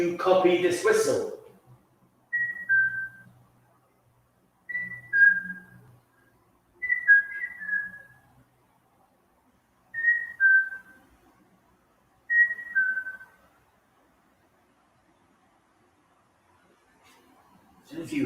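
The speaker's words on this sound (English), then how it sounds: "Can you copy this whistle?" A person whistles a short two-note phrase again and again in a quiet indoor space, about five repeats spaced a few seconds apart, with a voice briefly at the start.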